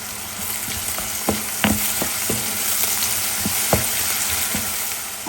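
Ginger-garlic paste fries together with eggs in a pan, giving a steady close sizzle broken by sharp spatula scrapes and taps as everything is stirred.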